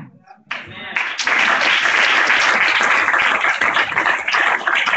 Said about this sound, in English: I was asked for everyone to hold your applause until we're done with the panelists